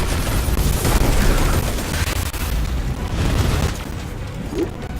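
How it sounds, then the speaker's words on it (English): Rockets explode during a battle in the video game Destiny, a loud continuous rumble of booms and blasts layered with gunfire that swells and eases over several seconds. "rockets going off that they're firing on us"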